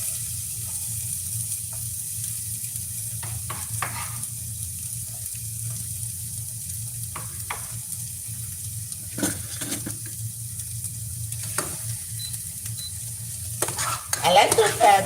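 Onions sizzling and being stirred in a pot on an electric stove for marinara sauce, a low steady frying hiss broken by occasional scrapes and clatters, with a brief burst of louder clattering near the end.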